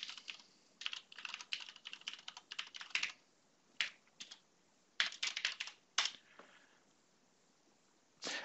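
Typing on a computer keyboard while entering a site URL and login into PowerShell, close and fairly quiet, in quick bursts of clicky keystrokes separated by short pauses, ending with a few isolated taps.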